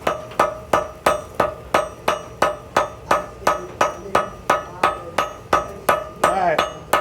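Steel cable being forge-welded into a knife under repeated hammer blows on an anvil, about eighteen sharp, ringing strikes in a steady rhythm, close and loud, with no talking.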